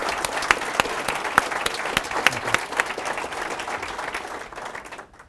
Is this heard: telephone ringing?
no